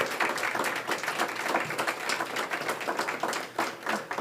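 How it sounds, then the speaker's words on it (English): An audience at a school board candidate forum applauds the candidates, a steady dense round of clapping that holds at an even level for the whole stretch. "Let's give them a round of applause."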